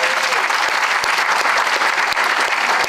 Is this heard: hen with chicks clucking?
no